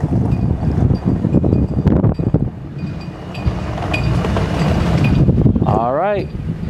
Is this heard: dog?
no